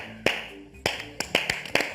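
Several sharp claps or taps ring out in an irregular run of about five distinct bursts, close and fairly loud, with a short thin applause-like spatter between them and no talking.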